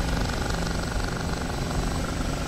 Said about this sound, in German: der ist geil gemacht, der Hubschrauber, und auch der Sound